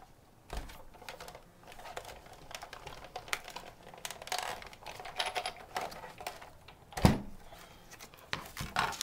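Cardstock and a framelit die pass between standard cutting pads through a die-cutting machine, giving a run of dense clicking and ratcheting with a sharp knock near the end, close and without talk.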